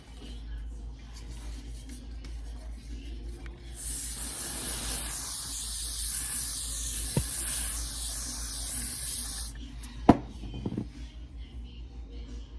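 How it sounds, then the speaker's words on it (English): A single long hiss of hairspray from an aerosol can, lasting several seconds close by, followed by a couple of faint clicks. "I'm gonna spray a little hairspray on it."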